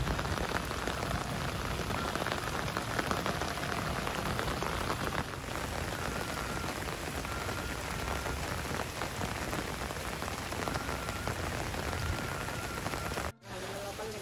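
Heavy rain pours steadily onto surfaces in a quiet village, a dense continuous wash of drops from start to finish with a brief dip near the end.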